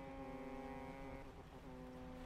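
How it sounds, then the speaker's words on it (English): Deep, steady ship horn blasts in the fishing game Dredge, sustained tonal honking at moderate level with no talk over it. "they're honking back at me."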